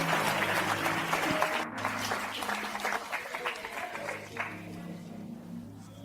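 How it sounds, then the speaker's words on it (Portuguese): A church congregation applauds after a reading during a sermon, giving a steady crackle of clapping over sustained musical tones that slowly fades. "Aplaudam ela pela leitura que fez."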